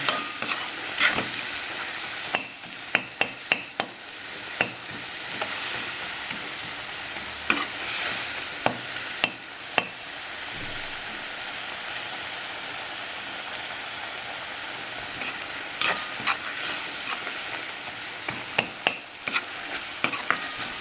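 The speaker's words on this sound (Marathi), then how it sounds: "तिखट हळद मीठ जिरं हिंग याची फुंडी दिली टाकायची" Chili powder, turmeric, salt, cumin and asafoetida crackle and sizzle in hot oil for a spice tempering, with a steady bright fizz, scattered pops and occasional stirring clinks throughout.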